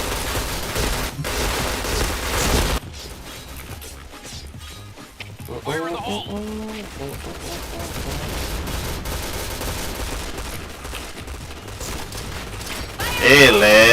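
Gunfire in an online shooter game, bursts of shots and mechanical clatter over game noise while players talk over the action.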